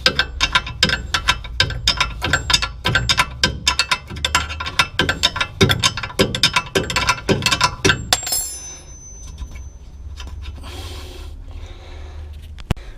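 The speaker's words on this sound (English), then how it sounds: "we'll just go ahead and we loosen up the bolt simply like that" A 19 mm spanner works a ball joint bolt loose on a Ford Capri 1600 front strut, giving a quick series of sharp metallic clicks and ratcheting taps that stop abruptly, followed by quieter faint rattles.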